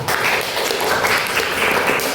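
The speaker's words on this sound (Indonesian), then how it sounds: "Tepuk tangan untuk kelompok 1." A classroom bursts into applause for the first student group, steady dense clapping from many hands that carries evenly through the short stretch.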